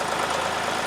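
A heavy drill rig engine idling low and slow, not revved, a steady rumbling drone with a regular pulsing beat, close by and fairly loud.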